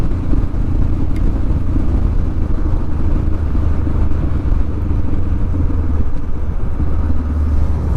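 A motorcycle engine rumbles continuously while riding, with a loud, steady low drone and a rough clattering texture; no talking.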